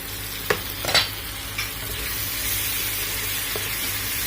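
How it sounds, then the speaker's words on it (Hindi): Masala gravy for Kolkata-style chicken bharta sizzling and roasting in a pan, a steady soft hiss with a few scraping stirs near the start. "इसमें से आ रही है भुनने की आवाज"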